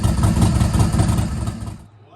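A Pontiac Trans Am engine idles loudly and close after cranking, with a steady low rumble for about two seconds before it cuts off abruptly. A voice talks over it.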